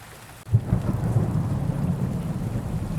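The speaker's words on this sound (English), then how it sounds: "There is a reason why it is raining" Rain falls steadily while a low roll of thunder rumbles in and lingers, deep and moderately loud.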